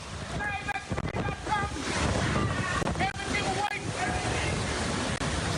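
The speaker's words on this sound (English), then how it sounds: "Listen to that wind as Irma's ripping through the island of Anguilla." Hurricane Irma winds raking the island of Anguilla, a constant loud roar of buffeting gusts with thumps and rattling, dense and unbroken from start to finish, with faint tones woven through the storm noise.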